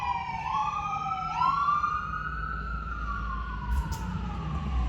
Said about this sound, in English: I'm going to hold on for the siren here for 1 second.